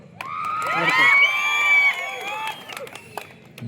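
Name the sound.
audience clapping and cheering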